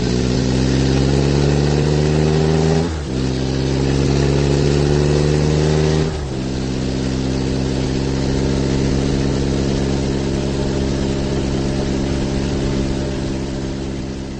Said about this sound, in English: It looks like the cars are ready to go and are going to start their pace laps.